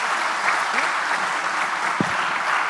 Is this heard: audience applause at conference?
yes